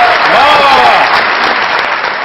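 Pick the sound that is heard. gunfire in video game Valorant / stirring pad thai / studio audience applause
studio audience applause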